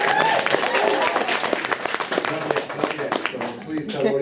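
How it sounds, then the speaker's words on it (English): A live audience claps at an interview event in London, brisk dense applause throughout, with a speaking voice mixed in. "So that's a round of applause."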